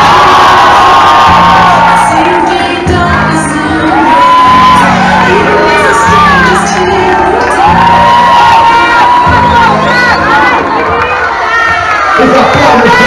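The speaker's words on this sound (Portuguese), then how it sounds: "Os aplausos da Tawana!" A loud crowd at a birthday party cheers, whoops and shouts, with children's voices rising above the din. A low repeating beat pulses underneath throughout.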